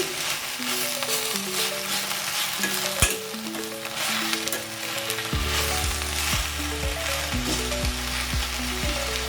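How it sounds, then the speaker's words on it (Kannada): Leafy kirak sali greens fry in a pan, stirred continually, giving a close, steady sizzle broken by repeated spatula scrapes and a sharp knock near the middle, with no talk. "ಕ್ಲೀನಾಗಿ ಚೆನ್ನಾಗಿ ಫ್ರೈ ಮಾಡಿ"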